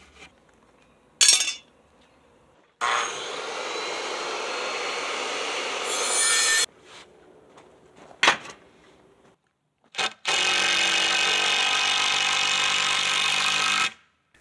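A saw cuts a piece of wood in two long, steady bursts of rasping strokes, each a few seconds, loud and close, with brief knocks and handling noises between them.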